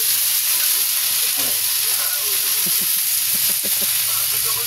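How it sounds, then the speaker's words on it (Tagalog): Water spinach (tangkong) stems sautéing in hot oil give a loud, continuous, even sizzle and hiss throughout, with faint clinks of cooking in the background. "gisahin na natin"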